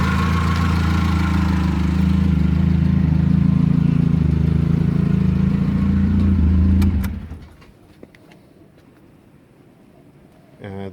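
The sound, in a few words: Mitsubishi GH Sigma car engine running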